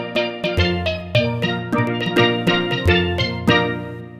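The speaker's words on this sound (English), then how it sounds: "Different steel drums." Steel drum voices on a Yamaha Genos arrangement keyboard play a bright melodic run of about a dozen struck, ringing notes with quick decays, loud and close, with no talk.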